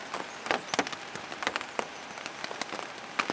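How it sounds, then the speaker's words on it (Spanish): Rain patters on a surface outside on the Carretera Austral, Chile, with irregular drops tapping and splattering over a soft, steady hiss. "Los hechos empíricos de afuera me demuestran que puede estar cayendo agua del cielo"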